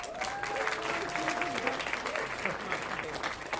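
Concert audience applauding a vibraphone player at a university jazz concert, sustained dense clapping throughout with voices and a faint tone mixed in.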